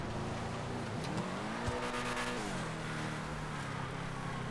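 A Sand King off-road truck races on an icy track in GTA FiveM, its engine droning steadily and loudly with gear shifts and rising revs, and brief tire noise partway through.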